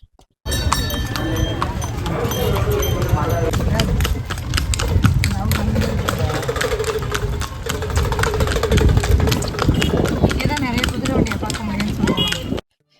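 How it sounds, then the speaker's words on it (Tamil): Horse-drawn cart ride toward the Palani Murugan hill temple, with a steady stream of hoof clip-clops close by, mixed with road noise and a running engine in the background. "அந்த குதிரை வண்டியில் அந்த குதிரை வண்டியோட சவுண்டோட நம்ம இப்போ அந்த பழனி முருகனை தரிசிக்க போக போகிறோம்"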